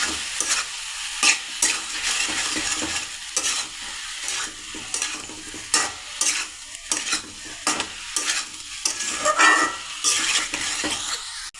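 Garam masala fried in a little ghee is stirred in a pan: a soft continuous sizzle broken by repeated scraping and clinking of a spoon against the pot in irregular bursts, close by, with no talking.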